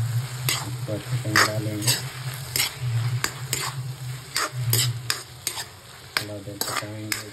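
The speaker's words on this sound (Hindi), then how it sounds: "टमाटर जब पक जाए उसमें थोड़ा सा शिमला मिर्च भी डाल देंगे" Chopped capsicum frying with cooked tomatoes for a dhaba-style shimla mirch sabji, sizzling loudly as a spatula scrapes and stirs the pan in quick repeated strokes; a voice speaks briefly.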